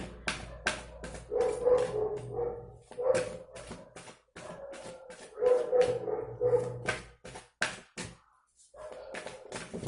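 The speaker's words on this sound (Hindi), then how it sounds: "बाहर कुत्ते भौंक रहे हैं, इसके लिए सॉरी" Dogs outside bark repeatedly in sharp, irregular bursts, several voices overlapping at mid distance, with brief yips and pauses between volleys.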